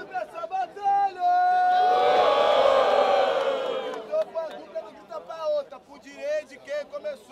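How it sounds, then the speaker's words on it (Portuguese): Crowd at a Brazilian freestyle rap battle erupts in loud cheering and shouting, a dense roar swelling for a few seconds then fading as a voice talks over the audience. "Barulho pra essa batalha!"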